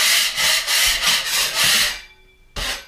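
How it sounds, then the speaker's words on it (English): A drywall knife blade edge scrapes and grinds against a screw head set in a textured wall, giving five rhythmic rasping strokes, a short pause, then one more scrape, close and fairly loud. "I'm gonna take the edge of my blade here and grind that in so that it's concave"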